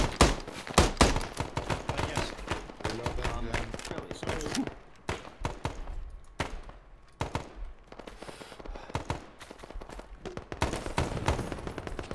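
Arma 3 battlefield gunfire, with rapid bursts and single shots cracking loud and near in dense clusters, easing off mid-clip and then picking up again, with some voice chat mixed in.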